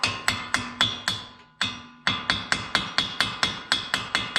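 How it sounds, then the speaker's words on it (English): Repeated metallic hammer strikes on a Subaru STI in a steady rhythm, with a brief pause midway before the blows resume, loud and close. "I don't like hammering on this stuff."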